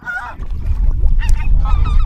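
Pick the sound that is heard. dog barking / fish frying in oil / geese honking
geese honking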